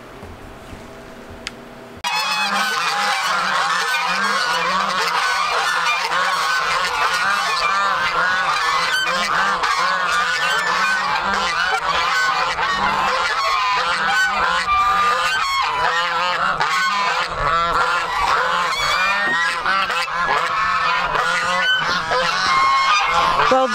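Geese in a farm goose pen honk loudly and continuously, a dense overlapping chorus of many birds close by, with no pauses after a brief quiet start.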